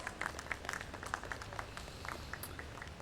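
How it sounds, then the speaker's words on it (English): Sparse, fairly faint applause from an audience at a leadership conclave and awards event, individual claps standing out over a low background hum, with no talk over it. "Please welcome him on stage. Round of applause."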